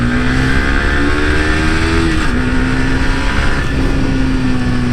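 A Yamaha R15 v3 150cc motorcycle accelerating hard, its engine note climbing loud and close, dropping briefly at a gear shift, then pulling again.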